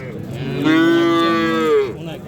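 A single drawn-out moo from a dairy calf at a calf market, close and loud, lasting over a second against faint background noise.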